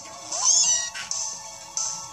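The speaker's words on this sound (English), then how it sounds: "Oh, my cat is actually in here." A cat meows in a video game, near and clear: one drawn-out high meow, then two shorter calls separated by pauses.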